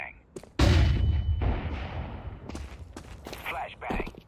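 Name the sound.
flashbang grenade thrown in a video game, CS2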